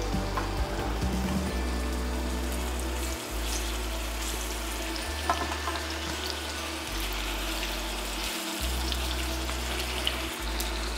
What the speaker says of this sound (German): Und braten jetzt unsere Hühnchenbrust ganz vorsichtig und wie gesagt bei wenig Hitze.